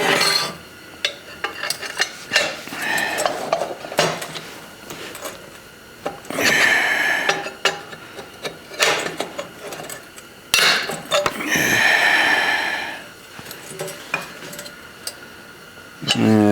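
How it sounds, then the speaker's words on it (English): Adjustable wrench used as a hammer on tacks in metal: clusters of sharp metallic taps and clanks come in bursts with pauses between, close and fairly loud. "Actually, grab my adjustable wrench. This has a flatter surface."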